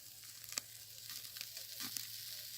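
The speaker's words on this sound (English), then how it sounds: "now steaks on the grill" Steaks sizzle quietly on a farm grill over a wood fire, a soft continuous hiss broken by faint pops and crackles, with no voices.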